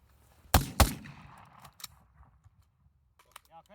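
Two sharp AR-15 rifle shots crack in quick succession during shooting drills, loud and close, followed by a brief echo, a faint metallic click and a little trailing noise.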